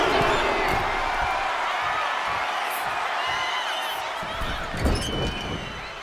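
Wrestling crowd in the WWE 2K25 video game cheering, a continuous loud roar of many voices with whoops rising and falling, plus a few thuds from the ring near the end.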